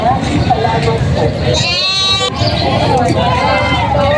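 Goats bleat several times at a goat market, one long wavering cry standing out in the middle, amid a busy background of overlapping voices and crowd chatter.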